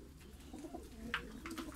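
Diyarbakır white pigeons coo softly in a short, low burst, with a faint chirp and background rustle, fairly distant and quiet.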